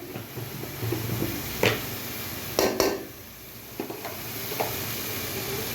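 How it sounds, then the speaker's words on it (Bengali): Bitter gourd (kakrol) being fried and stirred with chili and turmeric in a pan: a steady close sizzle with a few sharp scraping stirs of a spatula against the pan, no talking. "রান্নার জন্য আমি এখন মরিচ হলুদ দিয়ে ভালোভাবে কষিয়ে নিচ্ছি"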